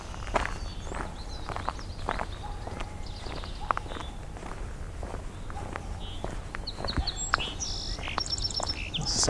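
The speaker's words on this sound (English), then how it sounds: "This is a song sparrow." Song sparrow singing in early-morning open grassland at a conservation area, its brief bright phrases repeating among other birdsong, with footstep-like rustling close by throughout.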